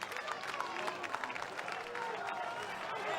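Crowd applause at a 1995 World's Strongest Man qualifying heat, a steady dense wash of clapping and cheering from spectators that carries evenly throughout, with faint voices mixed in.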